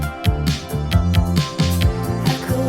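Bass guitar after EQ and compression playing a bouncy riff of short, punchy low notes with pitch slides, steady and loud, accompanied by regular drum hits and no voices.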